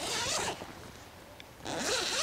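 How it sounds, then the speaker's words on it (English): Zipper pulled open on a fabric plant grow cover over a small lime tree, two close, loud rasping bursts separated by a brief quiet pause, with no talk. "I'm gonna go ahead and unzip this."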